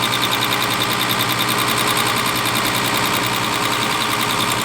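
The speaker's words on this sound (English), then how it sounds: "I personally think the idle speed of this engine is a little fast" A Zenith-carbureted engine idles steadily and a bit fast after carburetor adjustment, with a dense, continuous mechanical hum and rattle, loud and close with no talk.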